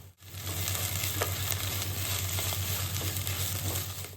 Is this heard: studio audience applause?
no